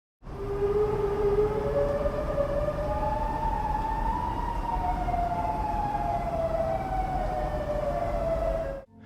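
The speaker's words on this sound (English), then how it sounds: "designed two different synth patches in Helm in order to replicate the eerie and alarming tone" A synthesized Sirenhead siren built from two Helm synth patches, with eerie wavering tones that rise and glide slowly over a dense low rumble, loud and sustained for about nine seconds before cutting off abruptly.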